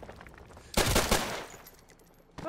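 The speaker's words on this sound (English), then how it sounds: "Why did you push me out into the gunfire, Gaz, you sack of shit?" A loud burst of rapid video game gunfire erupts suddenly, lasting under a second before trailing off, followed by another sharp shot at the end.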